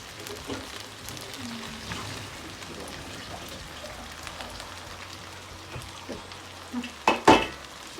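Soft sizzling of vegetables for a Turkish türlü stew frying in a pan on a wood-burning kitchen stove, with occasional stirring scrapes and a couple of louder clatters near the end.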